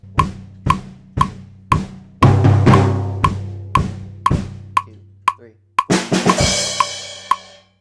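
A drum kit plays the pre-chorus beat of a song, a steady pattern of sharp, evenly spaced hits with bass thumps and ringing cymbal crashes building toward the end.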